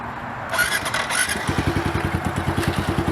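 A dirt bike engine revs up as a beginner eases out the clutch, rising into a steady rapid putter of firing pulses close by, with a brief squeal early on.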